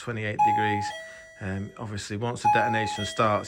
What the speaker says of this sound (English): So that's the doorbell interrupting me.